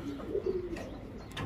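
Sifianos pigeons coo softly in a short, low burst of a few rolling notes, fairly close, with a faint background hum.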